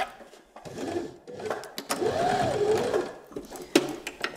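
Sewing machine stitching fabric strips onto a dog's snuffle mat, short mechanical whirring runs that start and stop with clicks and handling noises between them, close and moderately loud.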